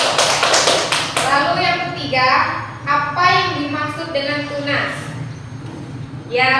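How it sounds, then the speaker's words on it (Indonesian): Students clap their hands in a short burst at a classroom lesson, a quick run of sharp claps up front, followed by a voice talking over softer tapping. "ya betul, tepuk tangan"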